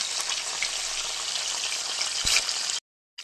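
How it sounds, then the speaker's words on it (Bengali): Khoira fish fries in a pan with a steady, dense sizzle that holds close and even for nearly three seconds, then cuts out abruptly. "মাছ ভাজা চলছে আমাদের, খয়রা মাছ"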